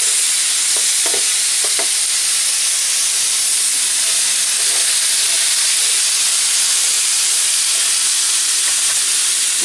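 Meat sizzles loudly and steadily on a new mini plancha grill as a dense, close hiss that holds for the full length. Light pops and crackles sit on top of it, and no one speaks.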